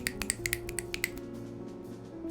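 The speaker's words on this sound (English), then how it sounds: "A big round of applause, or a snapping of the fingers" Scattered finger snaps from a poetry club audience: a quick cluster of light, crisp snaps in the first second that thins out and stops, over a faint, steady musical hum.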